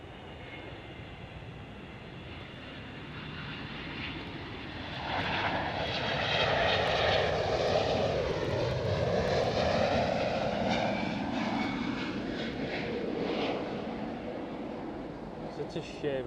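An airliner approaching to land at Amsterdam Schiphol grows from a distant hum to a loud jet roar and then fades, with people talking nearby.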